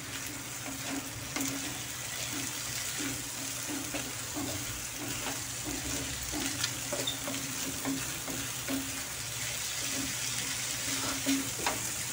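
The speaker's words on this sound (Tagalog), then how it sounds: "Halo-haliin lang uli natin" Ham, ground meat and canned whole corn stirred in a sizzling pan, a steady close frying hiss under repeated scraping strokes of a utensil against the pan.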